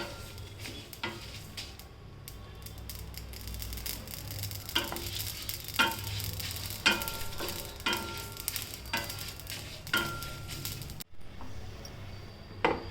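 Chillies roast in a pan for a pickle of dried raw mango, giving a soft, quiet sizzle broken by a series of light scraping and tapping stirs against the pan.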